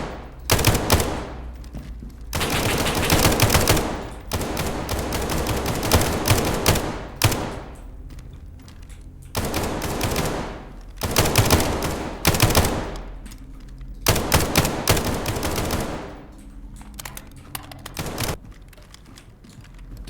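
Rapid gunfire bursts in the video game SCP 5K, loud repeated automatic volleys of several seconds each separated by short pauses, with no talking over them.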